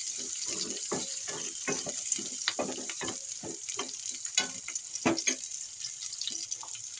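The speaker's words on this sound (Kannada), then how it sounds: "ಸ್ವಲ್ಪ ಈರುಳ್ಳಿ 2 ಹಾಕಿ ಸ್ವಲ್ಪ ಬ್ರೌನ್ ಕಲರ್ ಬರೋವರೆಗೂ ಹುರ್ಕೋಬೇಕು. ಫ್ರೈ ಮಾಡ್ಕೊಳ್ಳಿ." Onions frying in a pan for a tamarind curry, a steady close sizzle with scattered crackles and pops throughout, no voices.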